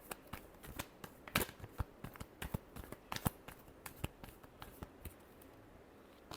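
Tarot cards are shuffled up close in quick, uneven bursts of soft papery snaps and flicks that continue for several seconds at a low level.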